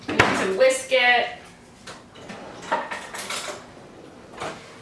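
Eggs in a big bowl are worked with a utensil, giving close clinks and scraping rattles of metal against the bowl in irregular bursts, with a few quieter knocks trailing off.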